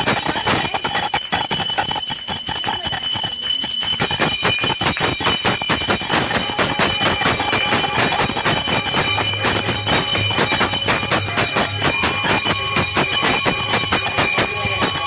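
Bells ring for a Janmashtami celebration of Krishna's birth at midnight, a loud, continuous metallic clanging and shimmering that fills the whole stretch without pause.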